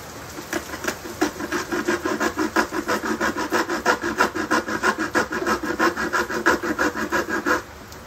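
A hand saw cuts an offcut of soft CLS studwork timber with fast, even back-and-forth rasping strokes, close and loud, continuing steadily for about seven seconds before stopping, with no talk.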